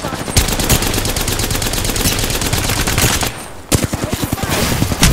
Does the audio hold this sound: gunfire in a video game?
yes